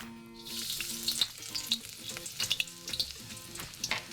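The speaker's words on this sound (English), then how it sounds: "Now that the peanut oil is ready to go, we're gonna toss in some garlic." About a tablespoon of minced garlic frying in hot peanut oil, a close crackling sizzle with rapid pops and spatters that swell and fade over a few seconds, no voices.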